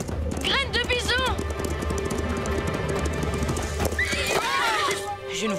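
A cartoon horse neighs twice in shrill whinnies, then clip-clopping hooves follow and another whinny rises near the end, all close and lively over a busy animated soundtrack.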